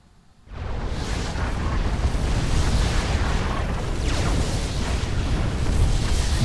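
A sustained roaring blast as an artillery unit is destroyed in the real-time strategy game Supreme Commander 2, bursting in abruptly after a brief quiet moment and holding loud, dense and rumbling to the end.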